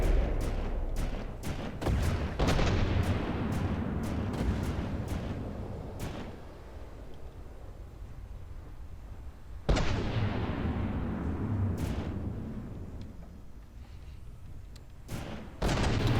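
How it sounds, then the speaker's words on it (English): Battleship main and secondary guns firing in the naval combat game From The Depths, a rapid series of loud booming cannon shots in two bursts with rumbling tails and brief lulls between. "So secondaries and the main guns are all having a go at it."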